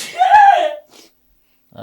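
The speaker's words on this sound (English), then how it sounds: "I'm gonna sneeze." A single sharp sneeze bursts out close by, followed by a short breathy exhale and then quiet.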